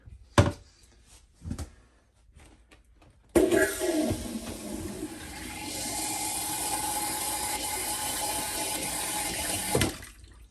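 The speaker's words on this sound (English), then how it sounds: "it's time for the maiden filling up, the maiden flushing." A toilet flushes into a holding tank after a few sharp clicks and knocks, releasing a sudden rush of water that settles into a steady hiss and gurgle for about six seconds before stopping abruptly.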